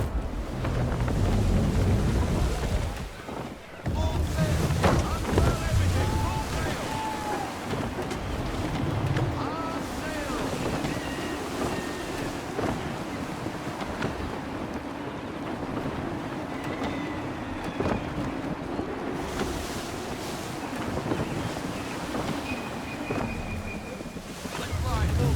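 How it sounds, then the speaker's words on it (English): Gusty wind and rolling waves surround a sailing ship in Assassin's Creed III, a steady loud rush of wind and water filling the whole stretch with brief dips and swells. "Gusty winds can be difficult to manage."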